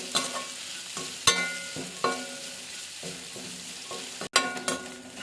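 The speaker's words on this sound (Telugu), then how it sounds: "సన్నగా కట్ చేసుకున్న పచ్చిమిర్చి, అలాగే కరివేపాకు, ఇవి కూడా బాగా మగ్గనిద్దాము" Thinly sliced green chillies and curry leaves sizzle in hot oil, crackling up in bursts as a spoon stirs and scrapes the pan.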